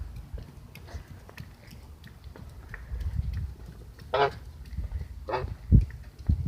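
A hybrid pet goose on an evening walk gives two short, nasal honks close by, then a louder one near the end, over soft outdoor background and footsteps.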